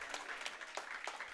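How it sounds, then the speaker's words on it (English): Faint, distant clapping at an esports trophy ceremony in a soundstage, a few scattered claps over a low background wash. "There you can hear the clapping in the background as well."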